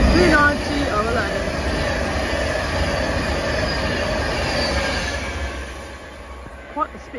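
Class 390 Pendolino electric train passes around a curve at speed with wheel squeal and rumbling rail noise that slowly fades, while a person talks faintly nearby.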